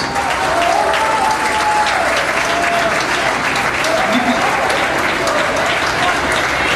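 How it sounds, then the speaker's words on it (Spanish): An audience claps steadily for the bands at a live event, a dense wash of applause lasting several seconds, with faint voices and whistles mixed in. "quiero que demos un aplauso a todas las bandas y a, y a todas ustedes"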